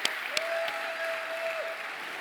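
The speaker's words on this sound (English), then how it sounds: "We have another just round of applause" Audience applause at a recovery event, a soft, distant wash of clapping heard alone with a few sharper claps and a faint tone running through it.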